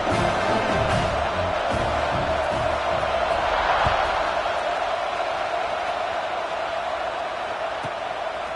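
A stadium crowd at a football game roars steadily as a kickoff is set, a dense, continuous wash of cheering with commentary-style talk underneath.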